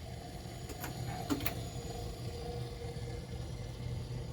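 A new 2 RPM motor turns inside a Black Hole pinball machine, giving off a steady, low mechanical hum and whir with a few faint ticks near the start. It runs alone at moderate volume, with no voices.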